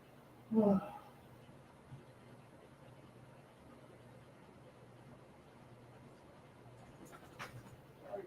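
A service dog lets out one short, high whimper near the start, then only faint low background noise remains.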